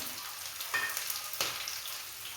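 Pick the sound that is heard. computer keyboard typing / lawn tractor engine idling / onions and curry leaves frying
onions and curry leaves frying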